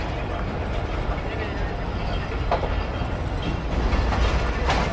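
The Millat Express pulls out of Faisalabad railway station with a loud, steady rumble and rattle of rail cars close by, a few sharper clanks along the way, and voices talking beneath the noise.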